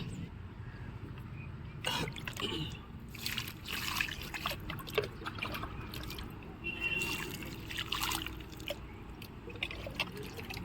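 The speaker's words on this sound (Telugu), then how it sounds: "ఇప్పుడు ఈ మొక్కలన్నింటికి కూడా వాటర్ పోద్దామండి" Water trickles and splashes steadily onto leaves and soil of terrace garden plants at close range, with soft uneven patters and small gushes throughout.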